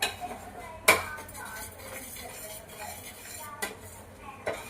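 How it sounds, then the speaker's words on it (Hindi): Gram flour is stirred in homemade ghee in a pan, giving a sharp metal clank of the spoon against the pan, then scraping and soft clinks at an uneven pace under low background noise. "तो जी बस बेसन चलाना पड़ेगा ये।"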